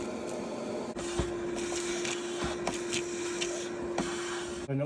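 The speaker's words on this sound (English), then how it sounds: "Actually, one thing I forgot to do is vacuum this door out." A vacuum cleaner runs steadily at close range inside a Freightliner 114SD truck door, a constant hum with faint bumps and scrapes of the nozzle against the panel and no talking.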